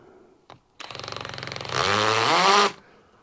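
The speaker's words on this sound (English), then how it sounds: "Drill's on hammer for some strange reason." A hammer drill set to hammer mode bores into wood, giving a close, loud rapid rattling that steadies and then roars heavier for about a second before cutting off.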